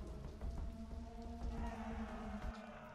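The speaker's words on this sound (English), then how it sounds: "It's a rainy day, clear waters" Rain falls on a rainy day at sea in the Nantucket video game, a steady patter of drops under a constant low hum, with no voices.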